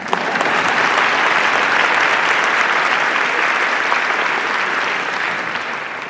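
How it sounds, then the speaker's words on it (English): A large audience at a community justice action assembly claps loudly and continuously, a dense, even wash of applause that holds steady for several seconds before easing slightly at the end. "Applause."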